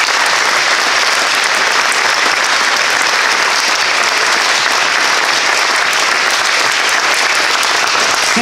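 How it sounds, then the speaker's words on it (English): An audience in a school district gathering applauds students, a dense, sustained round of clapping that stays loud and even throughout without a break. "So how about a round of applause for our students?"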